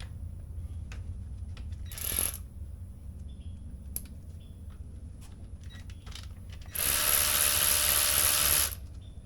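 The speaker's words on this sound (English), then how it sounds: "To get that out, I'm using a 5mm hex head." A 5mm hex head tool works a wheel speed sensor loose from a car's wheel hub, giving a couple of short, sharp, close ratcheting bursts over a low steady background hum.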